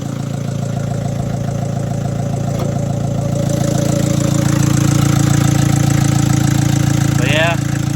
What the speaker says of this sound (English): The engine, I'm just letting it idle so it'll dry.